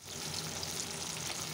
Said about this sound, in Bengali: আর মাছ এনেছে, মাছটা ভাজা বসিয়েছি